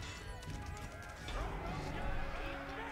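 Horses in the Age of Empires 4 video game clatter with galloping hoofbeats amid battle noise, close and steady beneath a voice speaking over the game.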